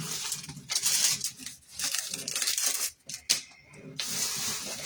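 Hot water runs and sprays in a steady hissing rush, broken by brief gaps and changes in flow, fairly close and with no talk over it.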